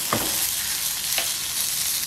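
Onions, chicken and chilies frying in a pan over low heat, a steady close sizzle with two brief stirring scrapes.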